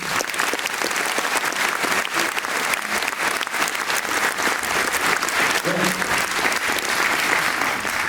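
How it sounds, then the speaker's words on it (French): Sustained audience applause at a town's New Year greetings ceremony in Creil, dense steady clapping from a large crowd lasting several seconds, with some voices underneath. "On peut encore les applaudir, je pense."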